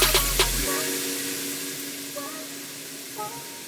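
Grilled pork belly sisig sizzles in a hot pan right after cane vinegar is added, a close, steady hiss and crackle that starts with a sharp burst and settles into a continuous fry, with no talk.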